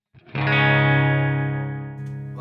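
Electric guitar played through a Mooer GE200 using a cab simulation, one sustained distorted chord ringing out for about two seconds and slowly fading, close and alone.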